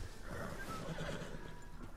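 A horse in the Red Dead Online video game neighs and whinnies steadily for about two seconds, at moderate volume with no talk over it.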